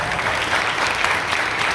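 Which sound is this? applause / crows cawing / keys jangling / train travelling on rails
applause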